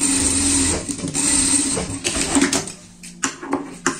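A sewing machine stitches a seam along the neckline of a small pet shirt, a close mechanical whir that starts and stops in short runs, with a few clicks in the pauses and no voices.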